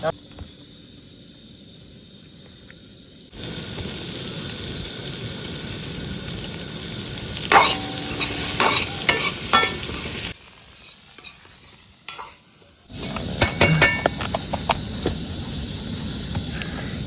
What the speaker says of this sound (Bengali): চলো আলুগুলো দিয়ে নিই মশলার মধ্যে, দিয়ে আলুটাকে একটু ভালো করে একবারে মশলার সাথে কষিয়ে নিই